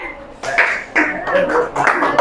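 A classroom of students claps in short patterned bursts during a clapping game, a few sharp clusters of claps separated by brief pauses, with voices around them.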